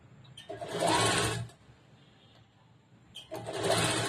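A sewing machine runs two close, steady bursts of stitching on a 40-inch blouse, sewing a quarter-inch seam, with a quiet pause between the runs.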